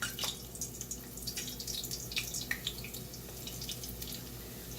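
Thin funnel cake batter pours into hot frying oil, giving a soft continuous sizzle with scattered crackles and pops at close range, with no speech.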